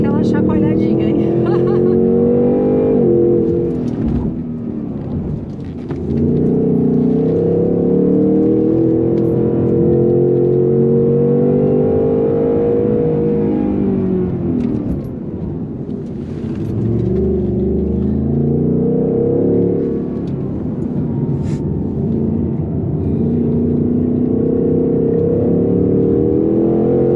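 A Ford Mustang Mach 1 accelerates hard on a race track, its loud engine roaring and rising through repeated gear pulls with brief dips at shifts, a voice speaking over the engine at times.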